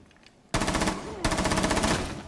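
Sniper rifle fire in a video game, heard as a dense burst of rapid repeated shots that starts abruptly, intensifies partway through and keeps going to the end.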